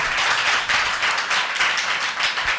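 A church congregation claps together during a sermon, making a dense, fairly rhythmic patter of many hands with regular swells, loud and sustained throughout.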